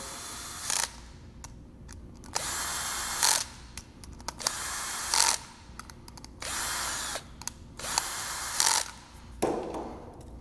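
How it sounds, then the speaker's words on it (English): A power drill drives the four insert screws into a service housing in short repeated bursts, each whirring run ending with a ratcheting clutch click, close and loud with pauses between. "line up the insert screws with the inserts in the housing, tighten the four screws up"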